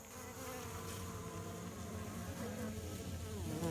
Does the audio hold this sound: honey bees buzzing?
yes